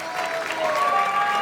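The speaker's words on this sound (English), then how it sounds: "Let's give one more round of applause." Audience applause at the AI Song Contest 2023 award show in A Coruña, a brief burst of steady crowd clapping, full and continuous, with a faint voice under it.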